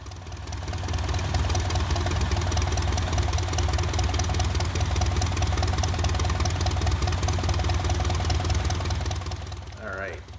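An old Oliver tractor engine labours in a tug-of-war pull against a Jeep, a steady low droning run with faint knocking that holds constant throughout.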